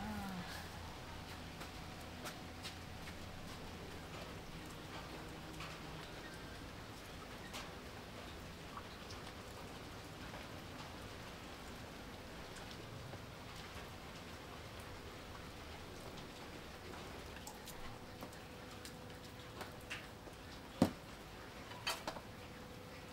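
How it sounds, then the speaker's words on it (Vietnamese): Steady rain falls continuously on a surface, a soft even patter throughout, with a couple of brief sharper knocks near the end and no talking. "mưa hoài trời"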